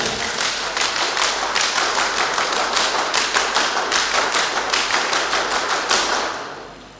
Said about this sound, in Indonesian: mari kita semarakan semangat dengan 2 kali tepuk pramuka